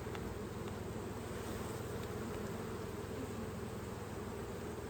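Honey bees buzzing at an open hive during a summer colony inspection, a steady dense drone of many wings that holds throughout at a moderate level, close by with no talking.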